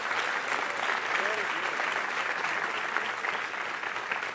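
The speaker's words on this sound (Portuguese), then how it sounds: "Eu quero que você aplauda ele bem forte." A church congregation applauds loudly and steadily, dense clapping filling the whole stretch, with some voices and cheers mixed in beneath.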